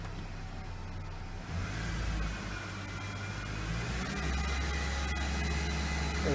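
A 1995 Ford Ranger engine running at high idle, a steady low rumbling drone close by that swells slightly louder and holds even.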